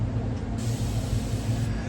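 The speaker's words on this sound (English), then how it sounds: "I just spray some on the cloth because it's not going to take a lot." Cleaner is sprayed onto a cloth during restoration of a firearm stock, heard as a sudden hissing spray burst that holds steady over a low background rumble, with no talk.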